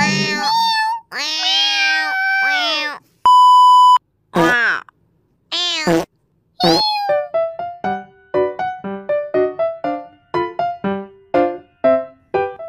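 Cats meowing in the Sakura School Simulator video game, a run of clear repeated meows, some long and drawn out, then a quick series of short evenly spaced meows, with one steady electronic beep near the start.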